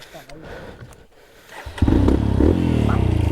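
Enduro motorcycle on a hill trail, its engine bursting into a loud, close revving roar partway through after quieter rustling and brief voices at the start.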